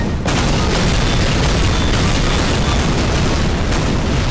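A loud, sustained explosion rumble booms in Garry's Mod, a dense roaring blast that fills the whole clip from its sudden onset, with no talk over it.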